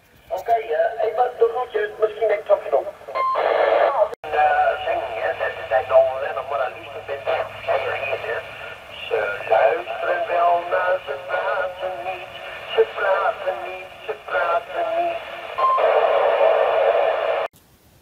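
A QYT CB27 CB radio picks up distant stations in crackly, band-limited reception, voices drifting in and out through static, steady and moderately faint, under weak propagation.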